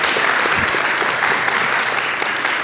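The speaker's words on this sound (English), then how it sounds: "So give a round of applause to Martin." A conference audience at a testing event applauds a speaker, a dense, loud and steady burst of clapping from a full room, with no talk over it.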